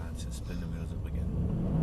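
A car's wheels spin up as the engine revs under power on a slippery surface, a steady low rumble that swells louder toward the end.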